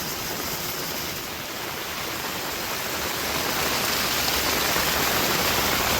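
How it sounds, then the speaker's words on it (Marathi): Rainwater pours off a flyover bridge like a waterfall near Parshuram Ghat on the Mumbai–Goa highway. It makes a steady, dense, loud rush of falling water that swells slightly halfway through, with no voices. "पूर्णपणे अगदी धबधब्याचं स्वरूप तयार झालेलं आहे बघा"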